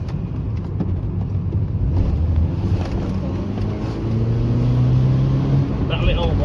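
Volkswagen Lupo with a 1.0 litre, 49 horsepower engine driving on the road, a steady low engine drone with rising tonal whine as it accelerates, wind and road noise throughout, with a person talking over it.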